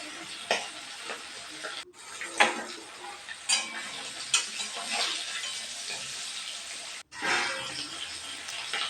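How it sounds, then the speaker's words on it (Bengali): Hilsa fish frying in hot oil in a wok, turned to cook the second side: continuous crackling sizzle with stirring and scraping clatter, dropping out briefly twice. "এক পিট হয়ে গেছে অন্য পিঠে ভেজে নিলাম"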